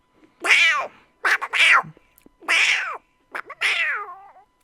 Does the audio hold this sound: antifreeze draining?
no